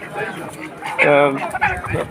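Chickens cluck and squawk in a busy poultry market at Chuknagar, with people talking close by over the birds.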